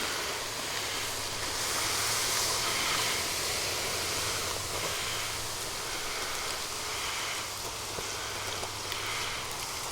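Water poured onto a smoldering fire pit sends up a steady, broad steam hiss that holds at even loudness for about ten seconds, with no voices.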